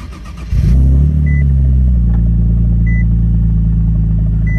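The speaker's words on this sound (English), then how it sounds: "So let's go ahead and start the 370Z up." A twin-turbo Nissan 370Z Roadster cranks and fires into life, the engine catching with a loud burst and then settling into a deep, steady rumbling idle close by, with faint beeps over it.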